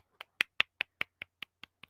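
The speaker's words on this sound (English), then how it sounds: "Let me clap." A quick, even run of about nine sharp hand claps, spaced roughly a fifth of a second apart, used as a celebration sound effect for a radio show's sixth anniversary; the claps are crisp and close and fade slightly toward the end.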